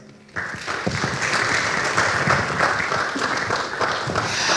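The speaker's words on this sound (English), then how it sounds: "A round of applause as she comes up." A round of applause breaks out as a panelist walks up at a discussion forum on the right to work for the urban poor, starting abruptly after a brief quiet moment and then continuing as steady, full clapping.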